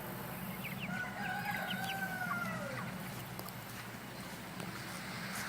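A rooster crows once in a long drawn-out call over steady clucking and rustling from a flock of farm chickens. There are no voices.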